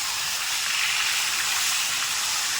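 A whole hilsa fish frying in hot oil, a loud, dense and unbroken sizzle that holds steady close up throughout.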